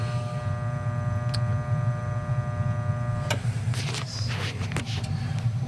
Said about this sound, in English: So we do have a bad Venner motor. I could hear it humming